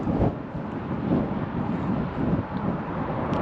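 Wind buffets a microphone outdoors in the Ardennes in France, a steady low rumbling roar with irregular gusty surges throughout, close and muffled, with no other distinct sounds.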